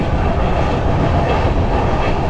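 A train rumbles steadily into Chiplun railway station in the Konkan, a loud, dense low roar of wheels and carriages with faint rhythmic clatter, continuous and close.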